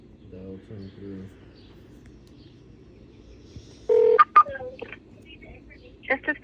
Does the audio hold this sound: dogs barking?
no